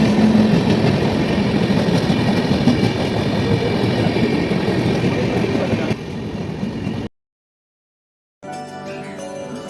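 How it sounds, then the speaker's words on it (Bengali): A passenger train travelling overnight to Varanasi, heard from inside as a loud, continuous rumble with faint rhythmic wheel clatter, a brief drop to silence, then the running noise again. "ট্রেনে চাপলাম।"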